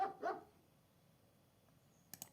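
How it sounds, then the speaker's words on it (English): Two quick dog barks from a sound effect played through show control software, fairly loud and close together at the start, then near silence with a couple of faint clicks. "now we've got the doorbell and then the dog barking"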